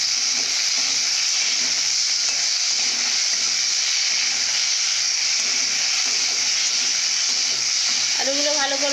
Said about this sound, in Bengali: এর জন্য আলুগুলো লম্বা লম্বা করে কেটেছি, ভেজে নেব।